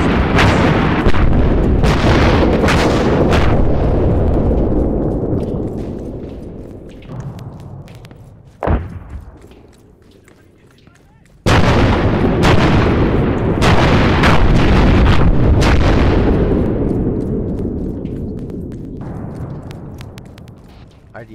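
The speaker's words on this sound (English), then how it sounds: "South of our current position, so they're creeping it forward as a barrage." An indirect-fire barrage creeping forward during a winter military exercise, heard as repeated loud, booming explosions with long rumbling tails, one sharp crack mid-way and a pause before the heavy blasts resume.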